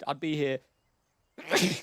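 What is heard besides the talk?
sneeze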